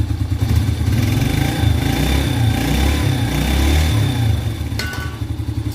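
A Yamaha Vega R motorcycle engine runs steadily at close range after a piston ring replacement, without its exhaust fitted, a throaty low putter with slight fluctuations and a faint clatter near the end.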